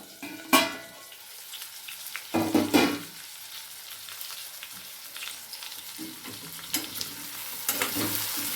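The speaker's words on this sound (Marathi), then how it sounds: "आपण जरा वांगे हलवून घेऊया" Eggplant fries in oil and is stirred in a pan, with a low sizzle broken by several loud scraping and clattering stirs.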